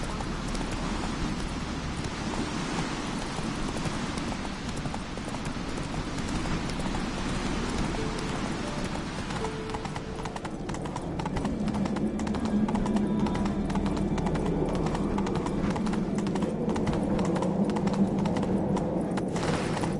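Roach, a horse in a video game, gallops with a steady, rapid clip-clop of hooves over rain-like background noise, continuous and fairly close throughout.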